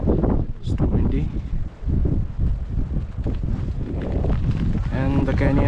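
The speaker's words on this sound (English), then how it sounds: "It's too windy" Strong wind sweeps across the cloud-covered Meghalaya hills, battering the microphone with heavy low rumbling gusts throughout, while a voice speaks briefly toward the end.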